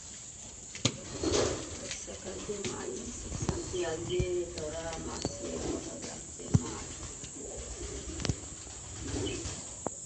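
Pigeons coo softly in the grounds of a Meldi Maa temple. The soft, repeated coos sit under nearby conversation and scattered clicks and knocks.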